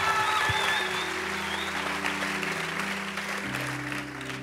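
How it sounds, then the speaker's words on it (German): An audience claps steadily at a Sunday night church service in Zurich as a speaker is welcomed on stage. The applause is dense and loud, with a low hum underneath, and fades slightly toward the end. "Ein Applaus"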